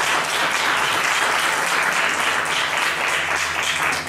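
Dense, steady audience applause fills the room continuously after a gentleman is introduced at a talk on music tuning, loud and unbroken throughout with no voices on top.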